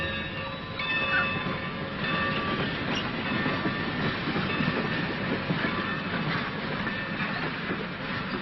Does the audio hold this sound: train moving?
yes